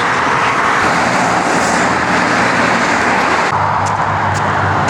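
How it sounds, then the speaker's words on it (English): Steady highway traffic on Highway 99 near the US–Canada border, heard from a footbridge above the lanes: a loud, continuous, close roar of passing cars and trucks with no pauses. "And there's the traffic coming from the States."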